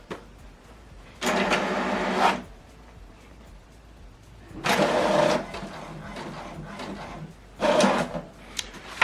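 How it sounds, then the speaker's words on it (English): An HP Deskjet 2800e inkjet printer prints a page, with three bursts of mechanical whirring and paper-feed rattling separated by quieter pauses, close by with no talking. "From the laptop, select continue to print the second page."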